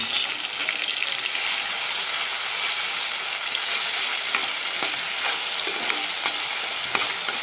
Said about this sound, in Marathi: एक मिनिट जर फक्त सगळं साहित्य आपल्याला परतून द्यायचं